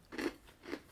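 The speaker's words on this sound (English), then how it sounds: "You can certainly feel them crunching when you bite them" Skittles crunchy cookies are bitten and crunched up close, two quiet separate crunches in a slow rhythm with nobody talking.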